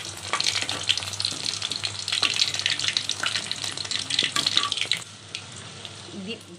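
Chicken pakoras frying in hot oil give off a steady close sizzle and crackle that lasts several seconds and then drops quieter as the pieces are lifted out, with faint talking in the background.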